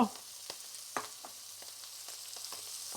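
Cod roe frying in a pan to get a light crust, a steady soft sizzle with faint crackles and a few sharper pops, close and fairly quiet with no voices.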